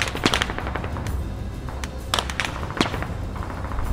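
Return gunfire in the military shooter Squad, set in Fallujah during the Iraqi civil war: scattered sharp shots and short bursts crack at varying distances over a steady rumbling battlefield background, without talk.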